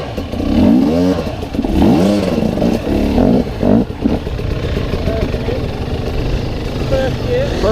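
A dirt bike revving in first gear while riding off-road in Spain, engine rising and falling in pitch close by, with someone talking over it.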